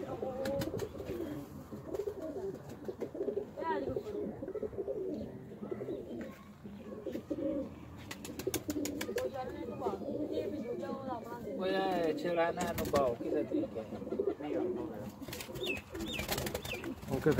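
Low coos of Sialkoti high-flying pigeons repeat steadily close by, with people talking over them and occasional chirps and rustling.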